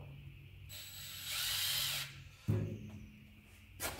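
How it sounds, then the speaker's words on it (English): A drill spinning a rigid pointed pilot-hole bit into a rear rack or deck on a diesel Jeep Wrangler JLUR, a short, close mechanical whir that rises for a moment, then a sharp thump and a brief ratcheting clatter. "It's a rigid drill bit with a point. It's made for basically making a perfect pilot hole."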